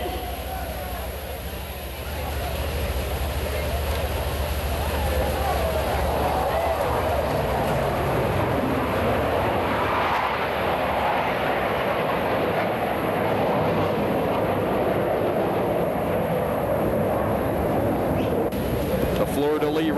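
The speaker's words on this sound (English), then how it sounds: "all 6 aircraft will be approaching for the Blue Angel fleur-de-lis" Six Blue Angels jets approach in fleur-de-lis formation at a 1987 airshow, a steady loud roar of jet engines with broad rushing noise lasting throughout, distant but powerful.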